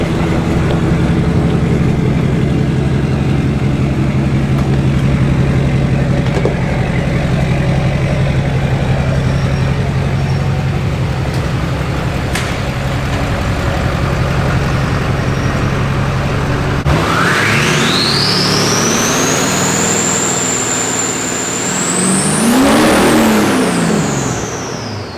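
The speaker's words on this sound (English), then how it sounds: "I'll go ahead and let you guys listen to that Ryan's Diesel Service turbo." A Cummins diesel engine fitted with a Ryan's Diesel Service turbo runs loud and close with a steady low drone, then revs up hard, the turbo spooling into a rising high whistle that peaks and falls away.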